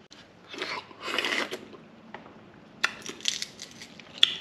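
A baby chews a duck egg embryo, giving soft, wet crunching and biting sounds in short bursts up close, with small clicks and quiet pauses between bites.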